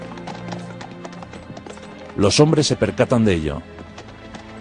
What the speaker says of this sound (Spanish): Monta su caballo y comienza a galopar por el campamento francés.